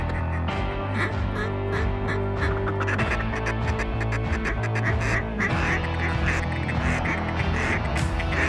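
A dense, loud chorus of ducks quacking continuously as a flock flies in toward hunters on a North Dakota hunt, with overlapping calls and wingbeat noise filling the whole stretch.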